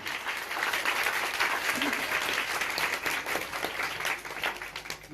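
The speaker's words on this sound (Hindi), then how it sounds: "जोरदार तालियां दें।" A church congregation bursts into loud, sustained applause, dense clapping filling the hall steadily with a few voices faintly mixed in.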